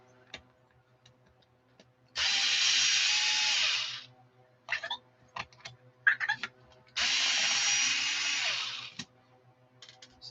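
Power tool whirring in two bursts of about two seconds each, backing screws out of the side rail of an Arrma EXB RC car, with small clicks and handling taps between the runs.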